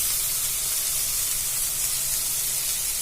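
Ginger garlic paste sizzles and hisses steadily in a hot pan with leftover rice, a continuous close frying crackle with no other sounds.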